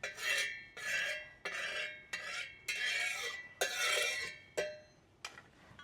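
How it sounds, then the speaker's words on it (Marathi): Brisk scraping strokes of a utensil spreading oil across a hot griddle, about eight passes in a steady rhythm, close and clear, with no talking. "तेल पूर्ण तव्यावर पसरून घेऊ"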